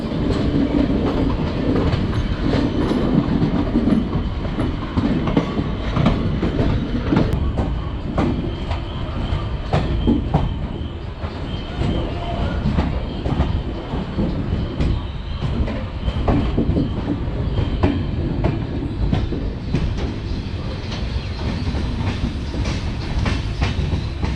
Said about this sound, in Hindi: ये निकल के आ रही है शकूर बस्ती की लूप लाइन से पातालकोट एक्सप्रेस